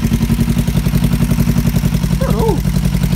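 A motorcycle with a newly fitted engine idles after its carburettors have been balanced, a loud, close, steady pulsing throb that stays even throughout, with a brief voice-like sound near the end.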